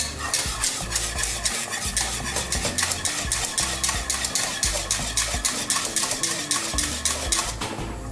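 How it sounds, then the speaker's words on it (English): A whisk beating a milk and cheese sauce for macaroni cheese in a pot, fast and steady, with constant close metallic clinking and scraping and no pause. "You've got to have strong arm for this because you cannot stop whisking."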